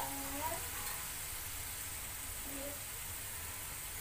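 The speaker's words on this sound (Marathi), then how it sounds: "शेंगदाणे पण चांगले परतवणार आहोत।" Peanuts roasting and being stirred in a pan over low heat for murmura chivda, a soft continuous sizzle with faint scraping, quiet and steady, with brief murmurs of talk.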